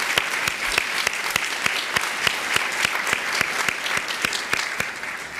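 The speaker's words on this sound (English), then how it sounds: "I suggest that you all give yourselves a hearty round of applause this morning." A conference audience at a 2013 supportive housing network meeting gives a hearty round of applause, continuous and fairly loud, with a few crisp individual claps standing out throughout.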